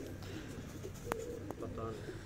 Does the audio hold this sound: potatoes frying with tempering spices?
no